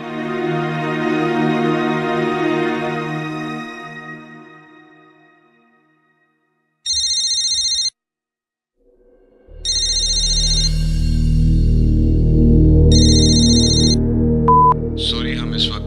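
A telephone rings unanswered before a voicemail greeting picks up, heard as short, bright electronic ring bursts separated by pauses, following a softer stretch of sound and overlapping a low, full background near the end.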